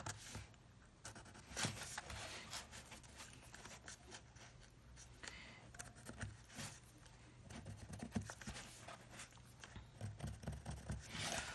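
A pen marks slot positions on tape, giving soft, close scratching and rubbing strokes in short irregular bursts on a quiet background.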